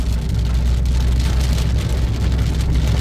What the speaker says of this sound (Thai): ตอนนี้นะคะตกแรงเลยนะคะ นี่ค่ะ ตัวปัดน้ำฝนก็ต้องปัดเร็วขึ้นนะคะ